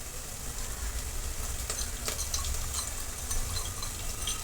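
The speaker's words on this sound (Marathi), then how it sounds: "कांदा आता आपला भाजलेला आहे मी आता हे दोन तेजपान टाकून घेत आहे" Two bay leaves drop into oil with browned fried onions in a pot for masale bhat spiced rice, producing a continuous near sizzle with faint stirring ticks, no talking.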